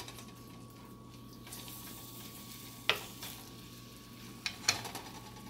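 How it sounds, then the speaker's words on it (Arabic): Chicken breasts fry in a pan with a little cooking oil, giving a soft, steady sizzle with a few sharp pops and clicks near the middle and end, no talking. "نظل نحمس بصدور الدجاج الى ان تستوي"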